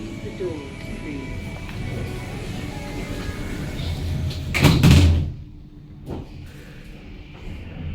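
The door of a hydraulic lift built in 2002, rated for 21 persons and 1,600 kilos, in Stoke-on-Trent city centre slides shut in a swelling rumbling whoosh that ends with a soft thud, close by under a faint hum.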